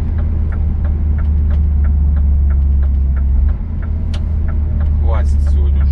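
A heavily loaded truck on the Ural mountain route rolls slowly into a new parking lot, its engine droning low and steady throughout, with short clicks overhead and a brief dip in the rumble partway through.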